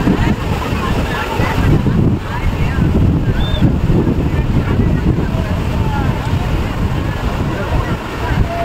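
Tidal water surging and washing against shoreline rocks at Kolaghat, a steady broadband rush of waves under heavy wind buffeting the microphone, continuous and loud throughout.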